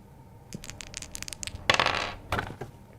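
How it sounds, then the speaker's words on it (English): Dice rolling for a game of D&D: a run of small sharp clicks and clatters, then a louder tumbling burst of dice skittering across a surface before settling, heard alone and close. "That is the sound of rolling dice."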